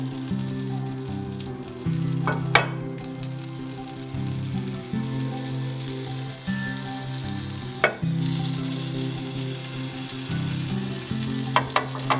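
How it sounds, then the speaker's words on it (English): Butter melts in a frying pan over low heat for a Korean-style toast, giving a steady soft sizzle with a low hum beneath and a few sharp clicks or scrapes. "Put a butter on the pan and let them melt in a low heat."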